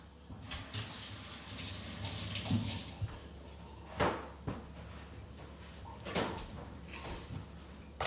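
Mushrooms rinsed under a kitchen tap: running water splashes softly and fairly close, with a few louder bursts and clatters of handling at the sink.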